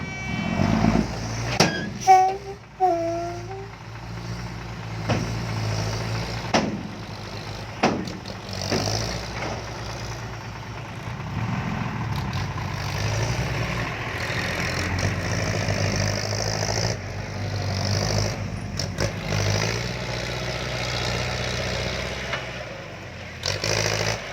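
A heavy diesel engine of a Komatsu PC130-8 excavator, with a changed exhaust pipe, runs steadily nearby, rumbling and idling with occasional revs and clanks, continuous throughout with no talking.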